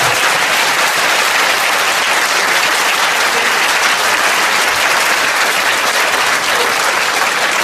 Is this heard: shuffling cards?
no